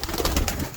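A pigeon, one of a prized old breed of kabootar, gives a brief close coo with soft repeated pulses, lasting under a second and heard alone.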